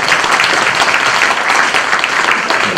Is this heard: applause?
yes